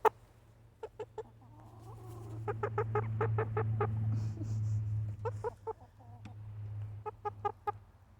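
Backyard chickens cluck in short rhythmic bursts over a low steady hum, several birds close by with a few louder calls standing out.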